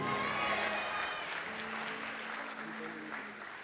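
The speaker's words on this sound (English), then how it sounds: "They had no idea what I said. They still applauded." Audience at a solo concert applauds, a dense steady wash of clapping with a singer's voice and some crowd noise over it, fading slightly toward the end.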